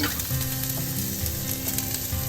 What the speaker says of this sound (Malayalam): ഒന്ന് ചൂടാവുമ്പം അതിനകത്തോട്ട് ഒരു 2 ടീസ്പൂൺ ഇഞ്ചി, അതുപോലെ തന്നെ വെളുത്തുള്ളി രണ്ടും ചോപ്പ് ചെയ്തതാണ് 2 ടീസ്പൂൺ